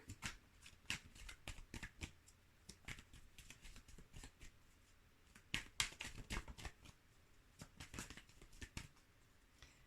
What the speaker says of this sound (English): Trying to shuffle a little bit more off camera so you're not getting dizzy by this.